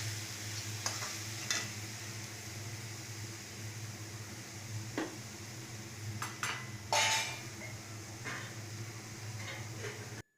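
A ground garlic and onion paste fries quietly in a pan with a low, steady sizzle, broken by occasional sharp clicks and scrapes of a utensil against the pan's sides.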